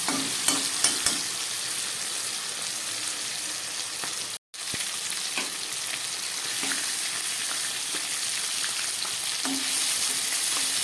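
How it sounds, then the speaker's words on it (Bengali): Marinated chicken pieces fry in hot oil for a spicy chicken jhal, giving a steady close sizzle with scattered stirring clicks and a brief drop to near silence midway. "ম্যারিনেট করা চিকেন পিসগুলো আমি একটু ভেজে নিলাম"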